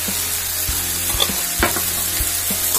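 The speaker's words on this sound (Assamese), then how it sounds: "ভালকৈ জিৰা গুড়িখিনি দি লৰাই দিম" Ground cumin sizzles in hot oil with banana flower as it is stirred in a pan, with a steady close frying hiss. Soft clanks of the spatula against the pan break through it at irregular moments.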